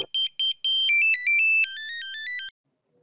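A short electronic phone ringtone in a Kannada TV serial scene plays clear and alone, starting with a few quick beeps and then a rising run of tones before it stops.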